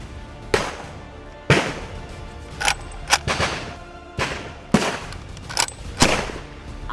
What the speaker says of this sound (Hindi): आगे बढ़ते हुए फायरिंग करना आसान नहीं होता